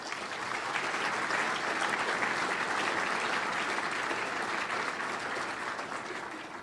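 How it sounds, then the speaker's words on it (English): Audience at a downtown Austin economic presentation applauding: dense, sustained clapping from a sizeable crowd, loud and even for several seconds before tapering slightly at the end, with no speech over it. "let's give everybody a round of applause."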